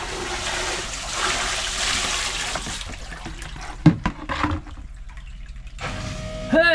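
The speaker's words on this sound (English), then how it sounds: "let's pour some water in. It should kick on" Water is poured onto a boat's bilge pump, a loud rushing, splashing pour for a few seconds, then quieter drips and trickles as the flow stops.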